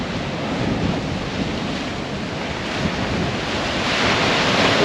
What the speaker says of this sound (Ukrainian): Ось таке воно тут бушуюче море